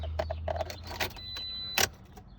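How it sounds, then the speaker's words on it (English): A 2009 Toyota Corolla with a no-start fault: keys jingle near the ignition, then a single sharp click sounds as the key turns, with no engine cranking after it. "I go to turn the key, like I said, and I just get a click"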